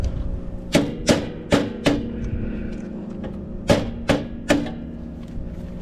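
A knockout in a metal electrical box for EMT conduit is hammered out with a series of sharp metallic whacks in two groups, close and loud, with short pauses between the strikes.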